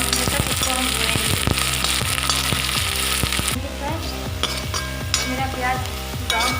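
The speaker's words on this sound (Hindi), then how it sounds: "अब हम इसमें प्याज डालेंगे बारीक काटे, हल्का ब्राउन होने तक इसको हम भूनेंगे।" Steady frying sizzle of finely chopped onions browning in a pan fills the clip, with a regular scraping of a spoon stirring throughout.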